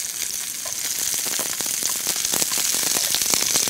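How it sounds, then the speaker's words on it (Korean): Chopped green onions grilling in a pan of oil, a close, steady sizzle and crackle with frequent small pops running continuously for a few seconds, no talking. "이렇게 대파를 넣고 구워주는 겁니다"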